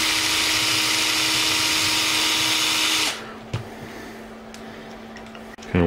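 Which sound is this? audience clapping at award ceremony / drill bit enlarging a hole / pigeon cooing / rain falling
drill bit enlarging a hole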